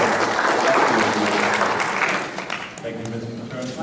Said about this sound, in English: So I think you should give yourself a round of applause for all you have done.